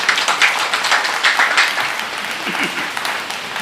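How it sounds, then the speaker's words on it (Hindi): A crowd at a mushaira, an Urdu poetry gathering, breaks into loud, sustained applause, with a voice briefly audible beneath the clapping. "एक जोरदार तालियां आपके लिए।"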